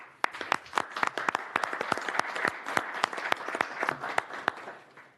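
Applause from an audience at a House Departments and Agencies subcommittee hearing, a steady round of dense hand clapping lasting several seconds with individual sharp claps standing out, fairly near and without talk over it.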